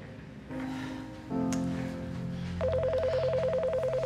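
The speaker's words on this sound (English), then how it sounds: "The phone, it's ringing." A telephone sounds with dial-like tones and then a steady, regular electronic ringing pattern, loud and close with no talk over it.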